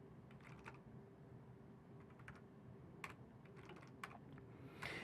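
A computer keyboard is typed on in short bursts of close, crisp key clicks with brief pauses between them, quiet and without talk, while a telnet command is entered.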